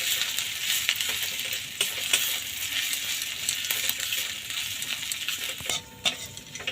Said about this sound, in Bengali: আদাটা একটু ভেজে নেব।